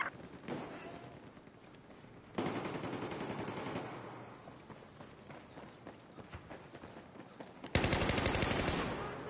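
Machine gun fire in the video game Battlefield 4, rapid bursts of shots that jump louder around the middle and again near the end, with dense rattling throughout and no talk.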